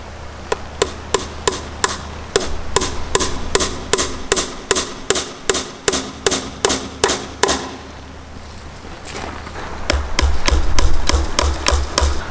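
Steady series of sharp hammer blows driving metal staples into fence posts while building a wire fence outdoors, about two strikes per second for eight seconds, then a pause and a few more blows over rumbling background noise.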